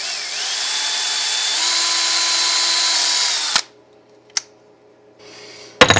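A power drill whines steadily as it bores holes into a Walnut Hollow wooden display base, then stops abruptly, followed by a couple of sharp knocks and handling sounds.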